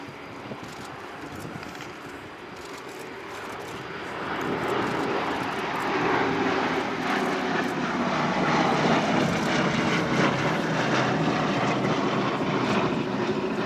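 A B-17 bomber's four piston propeller engines drone in a loud, sustained roar as it flies a display pass and zoom climb at the Royal International Air Tattoo air show, swelling louder after a few seconds.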